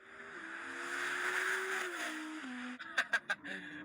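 An electric Audi RS launches in a drag race against an R8, its motor sound rising steadily and loudly, then broken by a few sharp bursts near the end.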